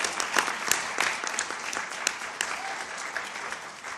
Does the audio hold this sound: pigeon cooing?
no